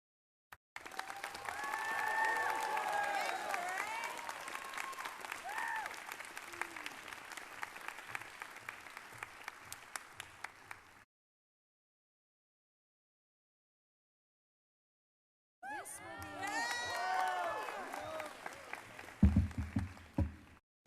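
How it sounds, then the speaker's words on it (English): At a high school graduation ceremony, an audience breaks into sustained applause with scattered cheers and voices, fading to silence, then another burst of clapping and cheering rises, moderately distant and fairly loud. "They're clapping because they know this is really significant."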